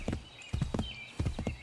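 Horse hooves clip-clopping in the video game Assassin's Creed 3, a brisk walking gait of paired hoofbeats on hard ground, moderately close, with no speech over it.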